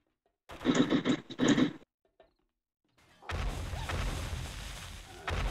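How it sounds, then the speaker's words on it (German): A zombie exploding in the video game 7 Days to Die during a horde night: a sudden loud, broad blast that carries on as a rough, sustained rumble. It follows a few short, sharp bursts and a quiet gap. "Achso, da ist der eine da eben explodiert."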